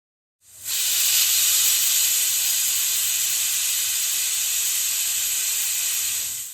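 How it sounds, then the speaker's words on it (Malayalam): A kitchen pressure cooker, on the flame while beef is cooked for cutlets, vents steam in one continuous loud hiss that starts abruptly and holds steady for several seconds before easing slightly. "വിസിലെല്ലാം വന്ന് കുക്കറിൻ്റെ ആ ഒരു പ്രഷർ പോകുന്ന സമയത്ത്"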